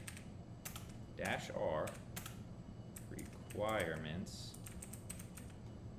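Keystrokes on a computer keyboard as a pip install command for project dependencies is typed, a quick run of close, crisp clicks with someone talking over part of it.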